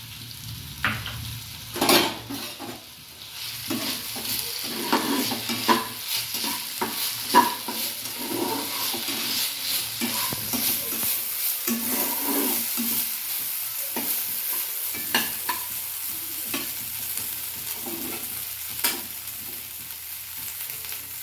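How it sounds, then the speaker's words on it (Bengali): Broken wheat (dalia) stirred and fried in a pan while cooking baby food khichuri: a steady sizzle with repeated scraping strokes of a spoon across the pan, close and continuous, with no talking. "এবার ডালিয়াটাকে লাল লাল করে ভেজে নিতে হবে।"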